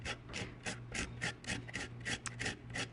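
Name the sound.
grating ginger root on a grater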